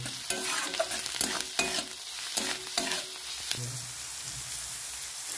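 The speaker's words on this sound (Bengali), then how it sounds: "ভালো করে নেড়ে নেব" Onions sizzle gently in a pan while being stirred for a Bengali mashed potato and eggplant dish, with soft scraping strokes and light frying crackle, close and fairly quiet.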